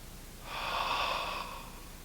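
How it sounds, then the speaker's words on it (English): A single slow, soft exhalation through an open mouth during a relaxing sunset yoga routine for sleep, a gentle breathy whoosh lasting about a second over quiet background. "Now open your mouth and exhale."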